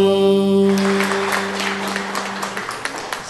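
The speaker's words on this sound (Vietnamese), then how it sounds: "Cảm ơn hai người đẹp đã vỗ tay ủng hộ cho Hoàng Việt Trang nha" An audience applauds at a Vietnamese cải lương performance. A sustained musical note ends, then a short burst of clapping follows and fades quickly.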